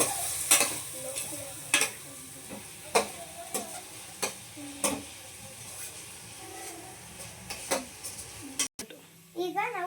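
Tomato, carrot and beans are stirred in a frying pan, a soft sizzle broken by repeated scraping strokes of the spoon, with a voice and other talk over the cooking.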